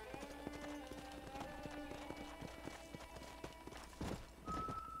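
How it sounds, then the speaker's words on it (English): A wild horse in the Red Dead Redemption video game gallops with rapid, steady hoofbeats, then gives a short whinny near the end, close and clear over faint game ambience. "That was a wild horse."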